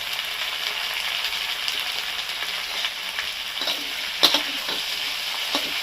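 Ginger and green chillies hit a hot pan of frying vegetables, a continuous close sizzle broken by several sharp spatula scrapes and clanks toward the end, with no speech.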